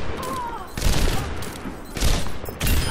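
Rapid gunfire in the video game Overwatch, several loud bursts of shots in quick succession over a dense backdrop of game effects, with a short lull between volleys.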